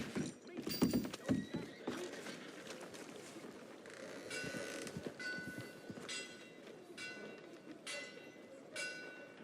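A horse's hooves clop in a steady walking rhythm on a dusty track out of town, joined by creaking tack. The sound is fairly quiet and stays steady throughout.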